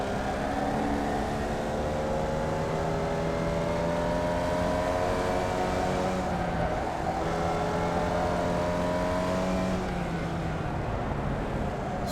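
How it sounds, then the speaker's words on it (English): A Formula Vee race car engine in the iRacing sim holds steady high revs in third gear, a continuous buzzing drone with slowly rising and falling pitch, alone with no talk. "I just take the school of thought of just revving it out in third and just let it run that way"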